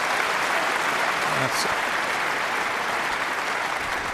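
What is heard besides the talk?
snooker crowd applause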